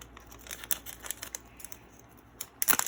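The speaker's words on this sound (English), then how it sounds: "I might have to get some scissors. So open it up." Scissors snip open a package of nail polish strips with a few quiet, separate cuts, then a louder burst of crinkling plastic at the end.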